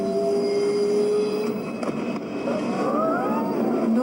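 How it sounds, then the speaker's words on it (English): A train runs along the rails with a steady low rumble and rolling roar, and thin wheel squeals rise and slide in pitch toward the end. "And all the while, you're on the train home."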